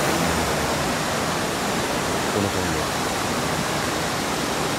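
Rain falling outside a tunnel at dusk, a dense even hiss that fills the whole clip, with a voice talking briefly over it.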